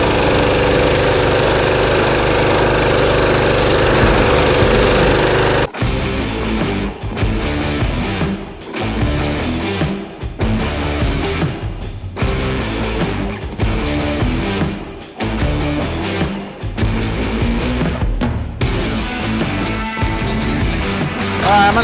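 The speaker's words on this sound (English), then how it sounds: "Just let the trowel machine do its thing." A concrete power trowel machine runs on a wet slab for a barndominium floor, its engine droning loud and close; after a few seconds of steady hum the sound turns choppy with repeated dips and surges.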